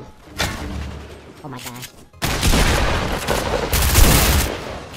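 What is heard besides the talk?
gunfire in the video game Fortnite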